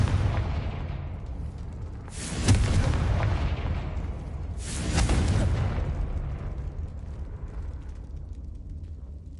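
Two Confringo spell blasts in Hogwarts Legacy burst about two and a half seconds apart, each a loud, booming explosion with a rolling tail over a continuous low rumble.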